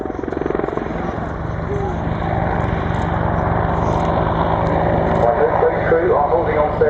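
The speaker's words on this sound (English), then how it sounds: "The aircraft pitches up to 90 degrees nose up and then rotates around the mast" Apache attack helicopter at an air display, pitching nose-up and rotating around its mast: a loud, continuous, close rotor and turbine roar with a steady chopping throb that swells slightly through the manoeuvre.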